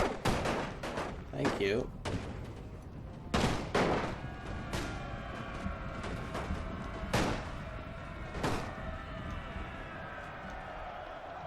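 Infantry musket volleys crack out repeatedly in a Napoleon: Total War battle using a Great War mod, sharp broadband shots in irregular bursts over a steady battlefield din and crowd noise, with someone speaking briefly.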